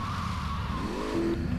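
A car in GTA Vice City screeches as it pulls into a parking spot, a steady engine roar with a short squealing tire skid near the end, loud and close.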